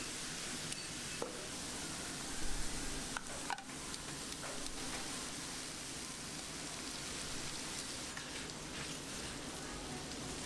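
Beef patty frying for a giant Korean burger with onions, a steady broad sizzle and crackle throughout, with a few brief clatters of the patty being flipped; no talking.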